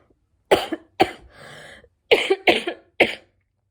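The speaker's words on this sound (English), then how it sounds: "I'm getting the cough this week" A series of harsh, close coughs from a person on day seven of Covid, about five in irregular bursts with a rough breathy rasp between, otherwise quiet.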